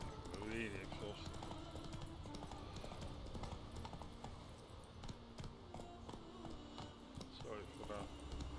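Horse hooves clip-clop steadily in The Witcher 3, a continuous rhythmic trot up close, mixed with game ambience and a voice talking over it.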